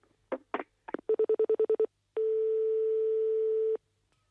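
A telephone number is dialed. A few clicks come first, then a quick run of evenly spaced dialing tones, followed by one long steady tone, all loud and close with nothing else heard.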